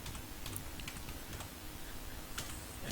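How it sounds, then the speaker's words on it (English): Close, quiet typing on a computer keyboard as names are entered, a steady run of light key clicks with no talking. "I'm just going to quickly type in some names here"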